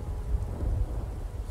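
Rain and rolling thunder from the video game Fractured Minds form a steady low rumble under a soft wash of rainfall, with no voices.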